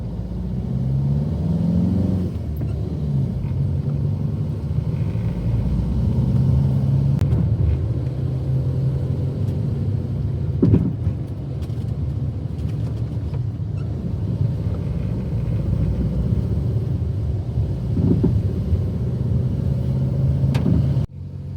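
A van engine labors up a very steep hill in first gear, a loud, low, continuous rumble with a slight rise in revs and occasional knocks from the cabin.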